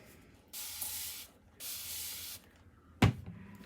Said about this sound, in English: I'm going to spray this side.